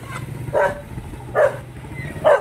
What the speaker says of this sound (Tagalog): Yung aso yan